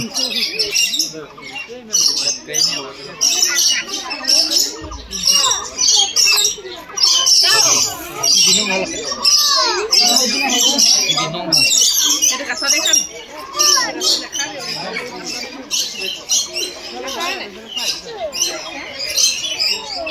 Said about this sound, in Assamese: চৰাইবিলাকে মাতি আছে